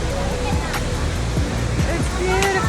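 Rushing water at Ouzoud Waterfalls in Morocco pours as a loud, constant roar up close, with faint voices of people mixed in.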